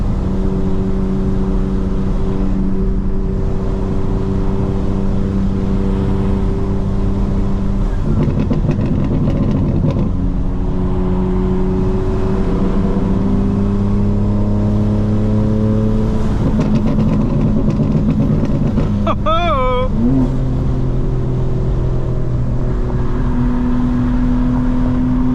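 Tuned 2025 BMW M4 Competition xDrive cruising in fifth gear at 73 mph off the throttle, its exhaust burbling and droning steadily for the whole stretch, with a louder crackle and pop burst near the end over constant road noise.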